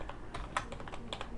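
Quick keystrokes on a computer keyboard while typing a short greeting into a chat app, a handful of light, close clicks in an uneven burst against quiet room tone.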